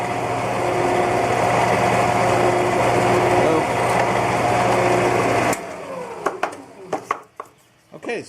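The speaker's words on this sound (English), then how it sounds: "Quarter-inch Forstner bit." A drill driving a quarter-inch Forstner bit into a wooden golf ball joint piece runs with a loud, steady whine for over five seconds, then cuts out, leaving a few sharp clicks and knocks.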